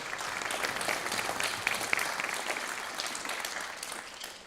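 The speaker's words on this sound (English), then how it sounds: "Let's have another round of applause for all of our band officers for" Concert audience applauding band officers, a broad sustained patter of many hands that swells slightly and then tapers off toward the end, heard alone without talk.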